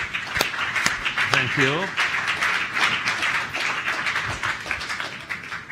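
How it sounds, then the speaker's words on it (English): A conference audience at a FinTech talks event applauds Paolo and Demetrio with steady, dense clapping that fills the room. Someone briefly says thanks partway through, and a few sharper nearby claps stand out early on. "please give a big round of applause to Paolo and Demetrio."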